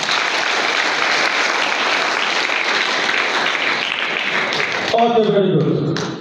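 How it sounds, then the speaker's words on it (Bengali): An audience at a business celebration event in Narayanganj claps for themselves, a sustained, fairly loud round of applause that ends as a voice begins speaking over the fading claps. "আপনারা নিজেদের জন্য একটা হাততালি দেন।"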